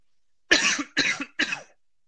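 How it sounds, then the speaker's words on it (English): Three harsh, raspy coughs in quick succession, close and fairly loud, each a short rough burst with brief gaps between. "Nasty cough."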